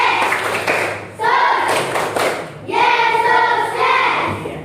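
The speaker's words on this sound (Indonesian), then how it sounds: "Sambil bertepuk tangan ya." A group claps along to a Christian children's song in a classroom, rhythmic hand claps mixed with voices singing in bursts, close and fairly loud with brief pauses between phrases.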